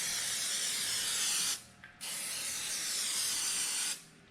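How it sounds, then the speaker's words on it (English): Cooking spray hissing from an aerosol can onto the bottom of a glass baking pan, two loud close bursts separated by a brief pause. "Got some cooking spray. We'll spray that on the bottom so our fish doesn't stick."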